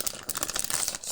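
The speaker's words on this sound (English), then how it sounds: "Go ahead and just take it out of the plastic." Plastic wrap crinkling as it is peeled off a large Trudvang Legends Book of Sagas, a quiet, close run of crackly rustles lasting about a second.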